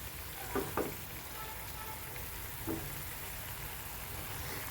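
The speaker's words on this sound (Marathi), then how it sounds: "मस्त उकळी आलेली आहे" Patwadi rassa, a spicy curry, bubbles at a full boil in a pan, giving a steady low hiss and sizzle with a few soft clinks of a utensil, moderately close and without talk.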